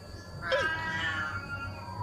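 A Thai cat in Ratchaburi lets out one drawn-out, rising meow close by, with faint background noise and no talking over it.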